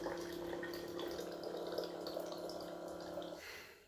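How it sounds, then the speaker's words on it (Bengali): Water from a mini electric water pump runs steadily into a bottle with a continuous trickling splash and a faint motor hum, close by, stopping near the end. "এই দেখছো জল বেরোচ্ছে"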